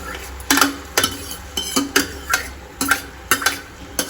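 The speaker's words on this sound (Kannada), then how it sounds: "ಬೇಳೆನೂ ಹಾಕೋತಾ ಇದ್ದೀನಿ" Cooked dal is added to a pot and stirred, a spoon clanking against the vessel in repeated close scrapes and knocks, roughly twice a second, with no talking.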